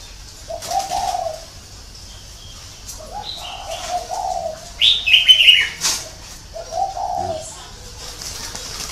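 Wild red-whiskered bulbul singing outdoors: several short bright warbling phrases with pauses between them, fairly close and clear, alongside low cooing from another bird.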